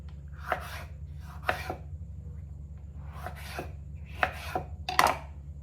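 A knife cutting tomatoes on a board while making paneer, about six separate crisp chops spaced irregularly, close and clear over a low steady hum.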